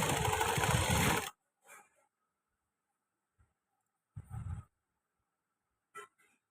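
A sewing machine stitches the side seam of a kameez in one loud, fast whirring run lasting about a second, then stops, leaving only a few faint clicks and handling noises.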